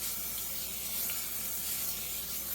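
Cooking spray hisses onto a greased pan lined with parchment paper, a continuous close airy spray lasting a couple of seconds.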